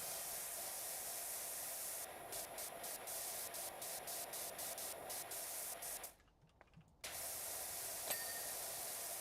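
A pressure washer spraying in the Powerwash 2 video game, a continuous loud hiss of water jet with brief stuttering breaks, dropping out for about a second before resuming.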